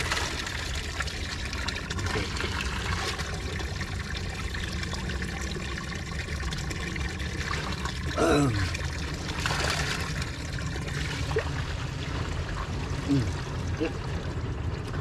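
Spring water trickling and pouring steadily as people fetch water from a natural spring, a continuous watery flow with brief voices talking over it.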